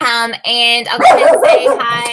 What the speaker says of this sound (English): I'm so sorry, I have barking dogs in here.